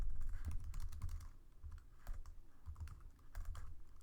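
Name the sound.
typing on a computer keyboard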